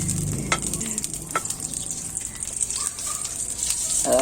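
Garlic fries in hot cooking oil, a loud close crackling sizzle with scraping stirs and occasional clinks, no speech.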